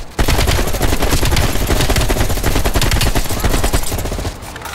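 Sustained automatic AK rifle fire in Call of Duty Black Ops Cold War, a dense, loud, continuous rattle of rapid shots that runs almost the whole time with barely a pause, close and overpowering, with no speech.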